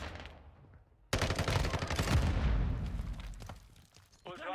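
Rapid automatic gunfire in Call of Duty DMZ, a dense sustained burst of shots starting abruptly and lasting several seconds, close and loud, with a voice speaking briefly near the end.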